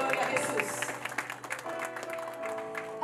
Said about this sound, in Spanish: Den un aplauso al Señor en esta hermosa noche